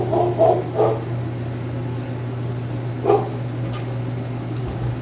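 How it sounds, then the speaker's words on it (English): A dog barks at a man from somewhere in the distance, giving a few muffled yips and woofs separated by quiet gaps over a steady electrical hum. "the dog barking dog is barking at him"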